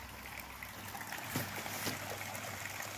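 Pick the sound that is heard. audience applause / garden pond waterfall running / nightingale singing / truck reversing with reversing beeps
garden pond waterfall running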